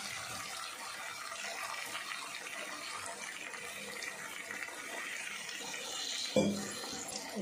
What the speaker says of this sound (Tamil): இப்போ லைட்டாக அதில் வந்து தண்ணி சேர்த்துக்குவோம்.